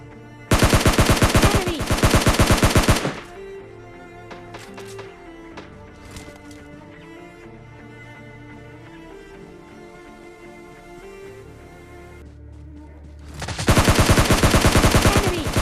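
Automatic weapon fire from the mobile shooter PUBG Mobile Lite rattles in loud, rapid bursts at the start and end, with quieter game sounds and a tonal background between them.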